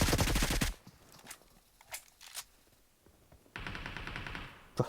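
Automatic weapon fire in the mobile battle royale game PUBG Mobile: a loud rapid burst at the start, a few scattered single shots in the middle, then another sustained burst near the end, with no talk.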